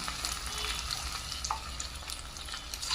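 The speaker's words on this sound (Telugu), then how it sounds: "ఆయిల్ అనేది హీట్ ఎక్కిన తర్వాత గోబీ వేసి డీప్ ఫ్రై చేసుకోవాలండి" Cauliflower florets for gobi 65 deep frying in hot oil over a medium flame, a steady close sizzle with brief crackling spikes, no voices.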